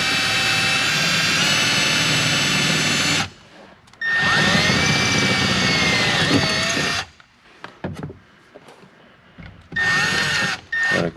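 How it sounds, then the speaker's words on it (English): A 1/4-inch bit drills slowly into a 2020 GMC Sierra AT4 truck panel during a stereo install, running as two long loud whining bursts with a short pause between, then quieter scraping and a final brief burst. "And then you take a 1/4" drill bit and you drill slowly."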